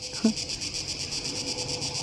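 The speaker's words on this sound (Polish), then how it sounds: "o czym rozmawiają cykady w ciągu dnia?" Cicadas buzz continuously in a high, pulsing drone, steady and fairly close, with a brief low thump near the start.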